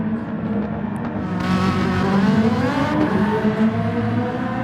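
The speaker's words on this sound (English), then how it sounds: "Has an extremely exquisite exhaust tone." A high-revving Ferrari 458 race car engine in the video game GT Sport roars loudly and steadily, its exhaust note rising and shifting in pitch as it accelerates, with no talk over it.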